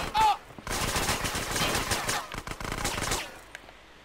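Rapid automatic gunfire in GTA San Andreas crackles in a dense, loud, sustained burst for about three seconds, then cuts off, with a brief voice at the start.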